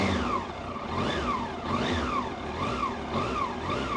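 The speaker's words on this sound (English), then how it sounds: "You turn the throttle, the revs increase." A 1999 Yamaha R1 motorcycle engine revving repeatedly, rising and falling in quick regular sweeps, loud and close with no talk.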